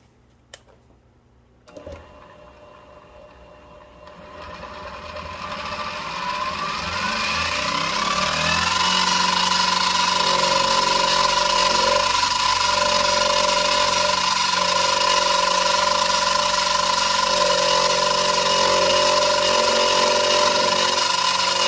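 A hobby tool shaves plastic from the frame of an Athearn SW1200 model locomotive, giving a steady, loud mechanical whir that builds over several seconds and then holds, with a sustained hum and no talking.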